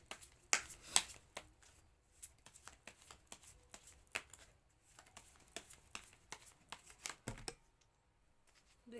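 Tarot cards riffle and slap down in quick bursts of crisp papery clicks and flutters, close and fairly quiet, with short pauses between shuffles and no voice.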